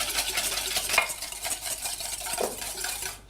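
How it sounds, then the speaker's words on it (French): A vinaigrette of vinegar and olive oil is stirred briskly in a bowl, a steady wet swishing with light clinks of utensil against the dish over a few seconds. "Et là, on mélange bien."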